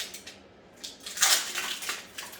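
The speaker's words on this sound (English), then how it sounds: "Now we're going to open our tuna." A 5-ounce can of tuna being opened in a kitchen: a few sharp metallic clinks and a brief scraping burst, close and fairly quiet, with no talking.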